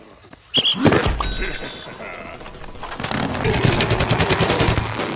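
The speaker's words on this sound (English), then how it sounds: "He's got a big, powerful zombie cannon as his primary weapon." Zombie cannon firing in Plants vs. Zombies Garden Warfare, a sudden loud blast followed by a sustained roaring, rattling barrage of rapid shots with game effects throughout.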